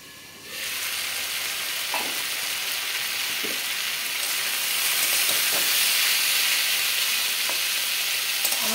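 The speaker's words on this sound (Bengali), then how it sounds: "এবার ঢাকনা বন্ধ করে আমি সেদ্ধ হতে দেব।" Ridge gourd cooks in a covered pan, giving a steady sizzle and steam hiss with a few soft clinks and bubbles.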